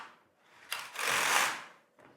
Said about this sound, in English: now I take my carriage across in needle position 2